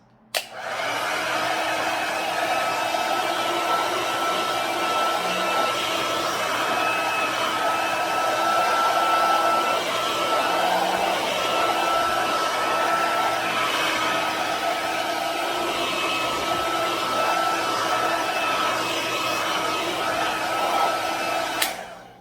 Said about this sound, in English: I'm just going to use the blow dryer quickly to dry it, just so it sets and stays in place.